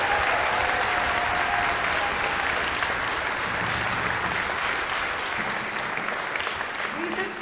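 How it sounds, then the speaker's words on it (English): Audience applause for the musicians and volunteers of an amateur orchestra, a dense, steady wash of clapping that fills the whole stretch at an even level, with a few faint voices and tones mixed in. "let's have a round of applause for all the musicians of PSO,"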